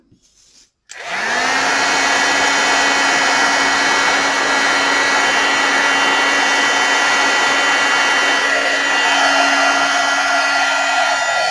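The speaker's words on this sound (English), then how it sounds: "Okay, just heat emboss these now." A heat embossing tool, used on a Stampin' Up! scrapbook page, switches on and blows hot air in a loud, steady whirring hiss that runs unbroken, close by, with no talking.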